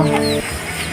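Crossbred hens clucking close by, a brief burst of clucks in the first half fading into softer background farmyard noise.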